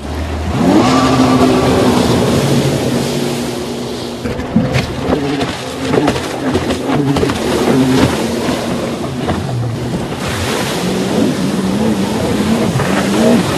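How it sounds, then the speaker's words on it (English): A water scooter engine whines and revs near water, its pitch rising and falling in surges over the splash and wash of waves, loud throughout. "Water scooter."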